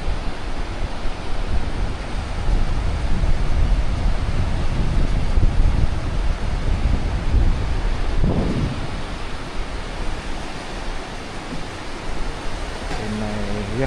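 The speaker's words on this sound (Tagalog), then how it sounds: "lakas na agos oh." Strong river current rushing down from a nearby waterfall, a loud, dense, continuous roar of churning water heard up close, with some wind buffeting on the microphone and no clear speech.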